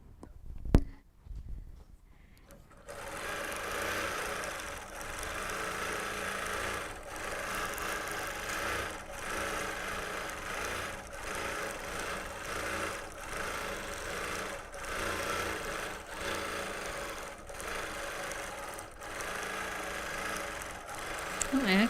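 A sewing machine quilting a Sunbonnet Sue block runs in a steady fast mechanical whir with light rhythmic stitching, close and continuous after a brief quiet start.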